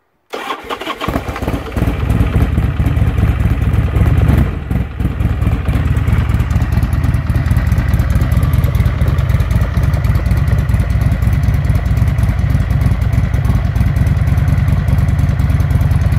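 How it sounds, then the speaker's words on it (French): A Buell Firebolt XB12R motorcycle cranks and fires up, then settles into a loud, close, lumpy idle that runs steadily with no voices. "je vais partir la moto"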